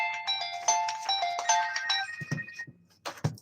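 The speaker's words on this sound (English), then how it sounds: "Your phone's going off" A phone ringtone plays a bright repeating electronic melody for about two seconds, then stops, followed by a few soft handling knocks.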